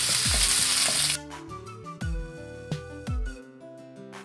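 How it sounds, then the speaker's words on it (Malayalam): Crushed ginger, garlic and black pepper hit hot oil for a chicken curry, giving a loud, dense sizzle that drops away after about a second, followed by spoon-stirring knocks and scrapes in the pan. "എണ്ണ ചൂടായിട്ടുണ്ട്. ഇനി ഇതിലേക്ക് നമുക്ക് ഇഞ്ചിയും വെളുത്തുള്ളിയും കുരുമുളകും കൂടെ ചതച്ചതാണിത്. അതിടാം."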